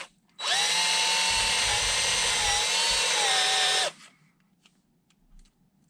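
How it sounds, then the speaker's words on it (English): A power drill whirs steadily for about three and a half seconds, drilling out the center of an apple, close and loud, then cuts off, leaving faint handling noise. "So we'll just drill out the center of these."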